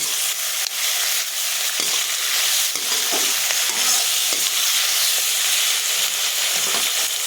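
Jackfruit pieces coated in soy sauce are stirred in a hot frying pan, giving a loud continuous hiss and sizzle with a few soft scraping strokes, close up and without speech.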